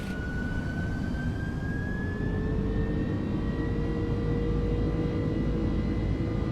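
MD-11 jet engines from the TFDI sound pack in MSFS 2024, a loud continuous roar with a rising whine spooling up over several seconds, steady and dominant with no voices.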